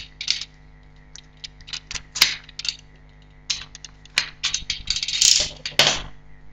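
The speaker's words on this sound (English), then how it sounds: "And we'll see if we can open this RAM here." Half-height RAM module packaging being opened by hand: scattered clicks, plastic snaps and crinkles in irregular bursts, close and fairly quiet, no speech.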